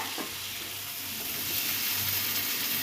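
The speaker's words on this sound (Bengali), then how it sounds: "কত সুন্দর হয়েছে আমার মাংসের ভাজা" Chicken meat sizzles steadily in a pan, a close, even frying hiss that swells slightly midway, with no talking.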